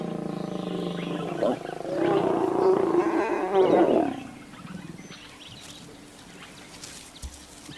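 White lions of a pride in Kruger roar in a loud, close burst of deep, rough calls over a few seconds, then fall away to quiet bush ambience.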